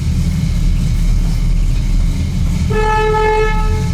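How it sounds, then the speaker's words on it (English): A 1965 Pontiac LeMans horn honks for about a second over a low engine rumble, loud and close. "So the horn works"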